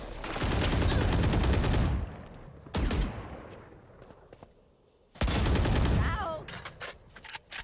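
Rapid bursts of gunfire in a Valorant esports match, loud and close, in several clusters of fast shots separated by short pauses, with commentators talking over them.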